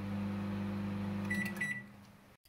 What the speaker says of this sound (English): If I just press start straight away, it will be in full power.